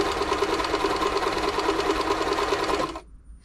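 A New Home L 312 sewing machine runs steadily, stitching a bar tack and a reverse stitch with a fast, even mechanical whir for about three seconds before it stops abruptly.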